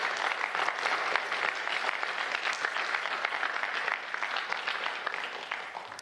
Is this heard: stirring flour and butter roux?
no